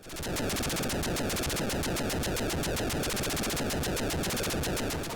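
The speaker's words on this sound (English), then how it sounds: "The sound effects are just cool. From gunfire to the explosions to just flying around." Rapid, continuous machine-gun fire from an Atari 2600 helicopter game rattles without a break, loud and dense, with a rumbling low layer beneath, like arcade-style game effects.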